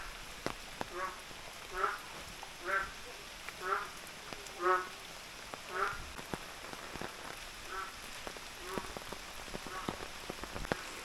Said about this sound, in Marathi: त्याच्यामध्ये बेडकं आहे, ती ओरडत आहे.